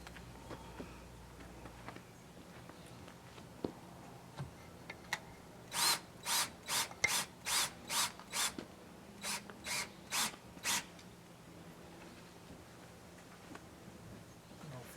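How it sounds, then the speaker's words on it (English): A hand ratchet torques bolts during a Solera slider topper installation, a quiet rhythmic series of about a dozen clicking strokes in two runs, close and alone. "Finish torquing manually"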